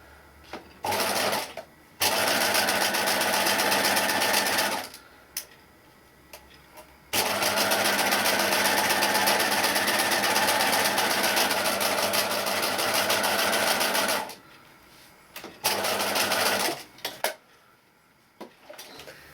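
Sewing machine stitching down the edges of a fabric notebook cover, running in two long steady bursts separated by short pauses, with a few shorter starts and stops near the beginning and end; loud and close.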